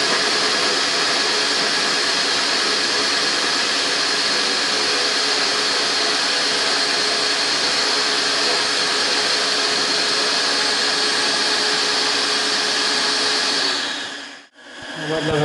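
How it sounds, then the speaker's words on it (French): An IFLOOR 5 Steam three-in-one stick vacuum runs its self-cleaning mode with a loud, steady motor whine and airy rush that holds unbroken. Near the end it cuts off sharply before briefly starting again. "le mode auto-nettoyage est enclenché"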